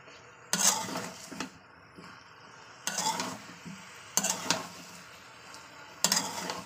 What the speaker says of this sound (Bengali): আমি কষিয়ে রান্না করে নিচ্ছি